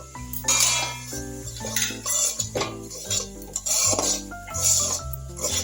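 Semolina is stirred in ghee in a metal pan, the spoon scraping and clanking rhythmically against the sides over a faint sizzle, close and fairly loud.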